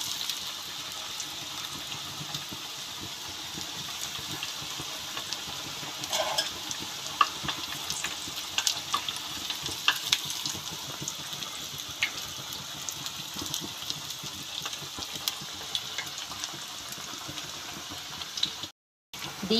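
Taro leaf parcels deep frying in hot oil, a continuous soft sizzle and crackle with occasional stirring and bubbling, fairly quiet and steady throughout.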